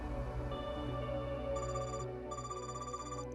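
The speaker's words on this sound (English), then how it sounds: "I don't recognize this ringtone" A phone ringtone plays inside the Trails Beyond the Horizon video game: a bright electronic melody of clear repeating tones that rings steadily and loudly over a sustained background music bed, with no voices.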